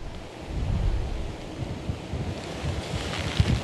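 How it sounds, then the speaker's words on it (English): Strong storm wind batters an outdoor live news report, a steady rough rumble of gusts buffeting the microphone with low thumping bursts, no talk heard. "as you come right to me, the winds have picked up"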